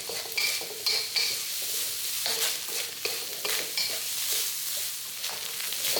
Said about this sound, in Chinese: 香料爆香后，我们再和猪肉碎一起翻炒